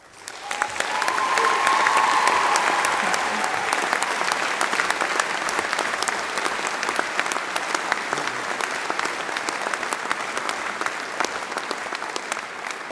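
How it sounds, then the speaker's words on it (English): A full hall at a university graduation ceremony breaks into sustained applause, a dense, even roar of many hands that swells quickly and carries on strongly for over ten seconds. "Come on, give her a big round of applause"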